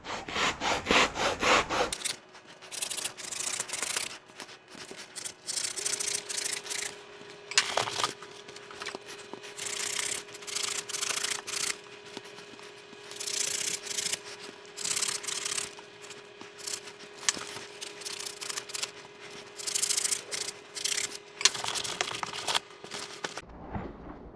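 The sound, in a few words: trimming the edges of a foam ATV mud plug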